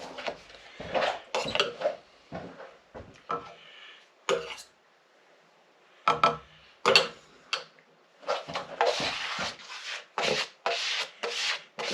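A pad rubbed by hand scrubs coating into the surface of a water tank, giving repeated rough, raspy strokes in short bursts with brief pauses, fairly close and moderately loud, with no talk.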